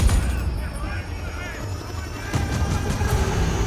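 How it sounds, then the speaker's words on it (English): A helicopter in the Battlefield 2042 game trailer gives a steady, loud rotor roar with faint crashes and booms mixed in, and a voice speaking underneath. "Helicopters are back."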